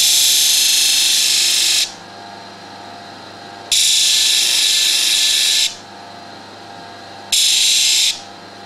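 A folding knife blade's edge is ground against moving sandpaper. There are three loud, hissing grinding bursts of about two seconds each, separated by quieter stretches of a running machine hum.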